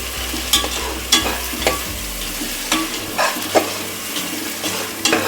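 Ground mint paste and mushroom biryani ingredients sautéed in a hot pan: a constant sizzle broken by regular scraping stirs of a spoon against the pan, close and fairly loud.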